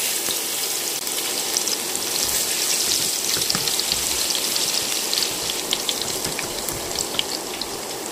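Chopped garlic and dried red chillies fry in hot oil in a pan for Dhakaiya bean bharta, giving a continuous close-up sizzle and crackle with small popping spikes and no voices.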